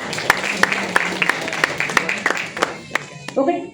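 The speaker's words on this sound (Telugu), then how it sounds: "Right answer. చప్పట్లు కొడదాం." An audience claps in rhythmic bursts after a correct answer at a Bible quiz gathering in Sharjah, with the sharp claps sounding close and repeated over steady talking.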